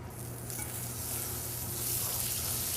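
Butter sizzles in a warm sauté pan, a quiet, even hiss that holds steady throughout with no talking.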